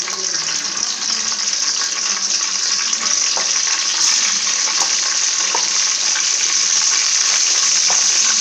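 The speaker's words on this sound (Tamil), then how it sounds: "கொஞ்சமாக எண்ணெய் ஊற்றிருக்கேன். கடுகு, கருவேப்பிலை போட்டுக்கலாம்." Mustard seeds and curry leaves sizzle in a little hot oil, a steady loud hiss with scattered crackles and pops, close by and without talk.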